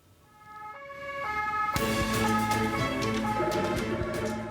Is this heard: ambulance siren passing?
yes